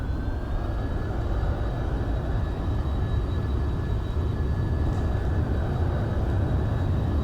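Airliner engines spooled to full takeoff power in X-Plane 11, a loud, steady broadband roar with a high turbine whine held unchanged throughout, no talk.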